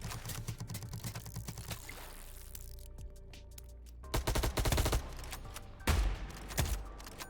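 Rapid gunfire in the fishing video game How to Fish, shots fired from fishing rods: a quick rattling burst early on, a lull, then louder clustered volleys of sharp cracks toward the end.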